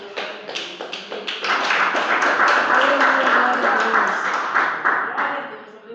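Church congregation clapping hands in praise, with steady rhythmic claps blending into a dense wash of applause that swells in the middle and holds fairly loud.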